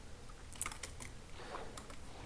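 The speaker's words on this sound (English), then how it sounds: "So I'm constantly typing it into the..." Quiet, irregular tapping on a computer keyboard, a short burst of keystrokes heard close and alone with no talk over it.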